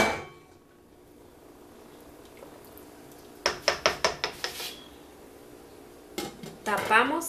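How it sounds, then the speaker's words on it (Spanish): A spoon knocks against a pot of vegetable broth in a quick series of about six sharp clinks, then a few more clatters, while a person talks quietly. "Ahora batemos un poquito."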